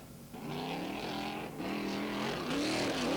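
A BF Goodrich off-road race truck at the Parker 400 desert race roars past at close range, its engine droning loud and steady with rising pitch as it accelerates, no voices over it.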